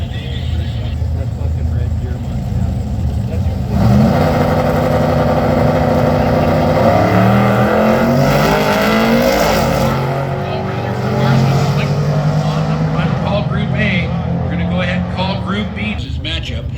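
A drag racing truck roars down the strip, its engine note climbing and shifting loudly as it accelerates, with a commentator talking over the noise throughout.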